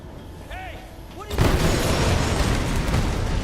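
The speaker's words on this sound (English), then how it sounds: "if I was that close to an explosion like that, I would be deaf" An explosion in the video game Tomb Raider bursts in after a quiet stretch with a few faint chirps, then gives way to a loud, sustained rumbling roar of debris and blast noise.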